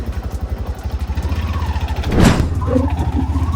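A Honda Activa scooter's engine putters close by in fast, even pulses, swelling a little louder partway through before settling back into its steady idle.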